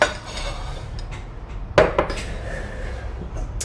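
Cooked asparagus spears being set onto a plate for a quinoa salad, with a brief clink of utensil on dishware near the middle amid soft kitchen handling noise.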